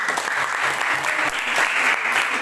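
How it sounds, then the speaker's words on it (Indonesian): Classroom applause from students, loud close clapping that is dense and continuous throughout the short stretch, with no talk over it. "Berikan dulu tepuk tangan untuk si Pinto."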